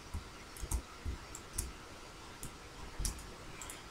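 Soft mouse clicks and light key taps on a computer keyboard while copying a shape in PowerPoint, a handful of quiet, scattered clicks with a faint hiss between them and no talking.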